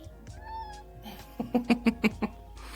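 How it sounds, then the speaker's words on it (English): A cat meows repeatedly in short, rising cries, a rapid run of five or six meows close to the listener after a quieter opening, with household background hum. "There's a kitty crying."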